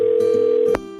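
A phone call rings out on a budget mobile phone, a steady electronic tone held close and loud and then cut off sharply with a click, followed by a quieter line hum.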